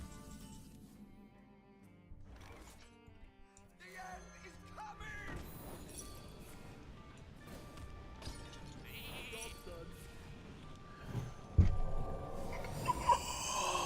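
A sheep bleats as a polymorph spell lands in the video game Hearthstone, a cartoonish baa set among chiming game effects and background music that grow busier and louder toward the end.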